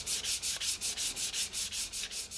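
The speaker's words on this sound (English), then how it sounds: "Now I'm gonna sand with the grain." Rhythmic hand sanding of a wooden vase with 320-grit sandpaper along the grain, about a dozen even back-and-forth strokes, close and fairly quiet with no voices.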